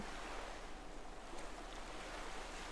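Steady ocean surf with waves washing continuously, a soft broadband wash heard alone at low level, calm and even throughout.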